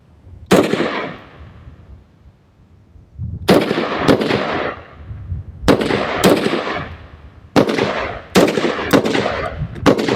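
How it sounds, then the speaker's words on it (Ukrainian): Rifle shots from a WBP Midi Jack, a modern Polish civilian AK in 5.45 caliber, fired at a range: a single sharp crack, then quick pairs and singles, each with a long decaying echo, loud and alone. "Ще одна серія із чотирьох пострілів цього разу із темпера його власником"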